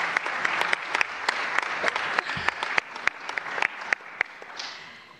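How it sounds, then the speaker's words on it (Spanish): An audience at a pension debate applauding, a steady patter of many hands clapping at moderate distance, with a faint voice briefly underneath. "si queréis aplaudir, aplaudir"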